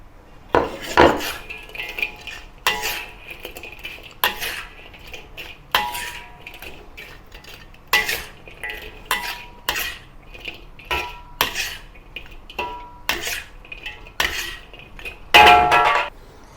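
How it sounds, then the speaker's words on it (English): Squid rings being tossed and stirred in a wok with salted egg sauce: a rhythmic series of sharp metal scrapes and clanks from a spatula, close and fairly loud, repeating every second or so. "So what is remain now is to return the squid rings back to the wok and mix well"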